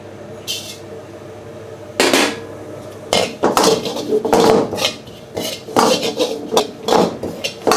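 Dried shrimp and coconut dry-roasted in a pan, with a utensil scraping and clanking against the metal in irregular bursts, loud and close, with some voice in the background.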